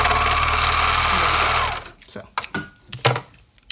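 A serger overlocks the fabric of a doll's raglan shirt, a loud fast mechanical whir that runs steadily, then stops and gives way to scattered handling clicks and bumps.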